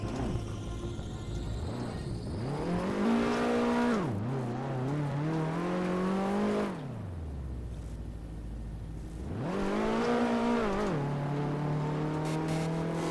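A car in Garry's Mod driving on a rain-soaked road, its engine revving up and down in repeated surges with tire squeal as it slides, steady and fairly close.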